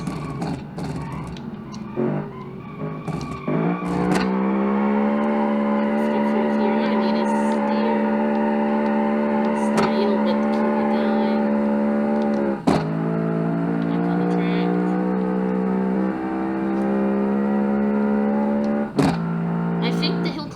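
A rear-engined V8 hatchback in a racing video game drives with a steady, loud revving engine tone that shifts pitch at gear changes, while someone talks over it throughout.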